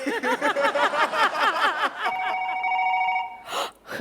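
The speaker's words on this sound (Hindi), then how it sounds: "बच्चे के स्कूल से फोन।" Bursts of rhythmic chuckling give way to a steady electronic telephone ring tone, followed by a brief breathy sound.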